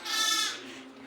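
A goat bleats once, close and fairly loud, in a wavering tone that fades into a quiet background.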